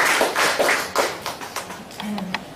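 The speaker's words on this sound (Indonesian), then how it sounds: "beri tepuk tangan buat Tuhan Yesus" Congregation at a church anniversary service in Indonesia claps hands, a run of loud rhythmic claps that thin out into lighter, spaced taps, while a voice speaks briefly near the end.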